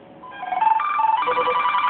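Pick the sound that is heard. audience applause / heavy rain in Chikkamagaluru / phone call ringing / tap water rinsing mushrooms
phone call ringing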